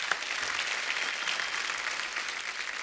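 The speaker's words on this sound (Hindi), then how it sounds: "तो एक बार तारा फ्रॉम सतारा की टीम के लिए जोरदार तालियां।" Dense, steady applause from a studio audience on a comedy talk show, loud and continuous throughout with no speech over it.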